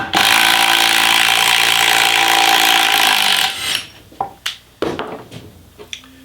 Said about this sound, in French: L'avantage avec le tire-fond, c'est qu'on peut un peu plus appuyer quand on visse.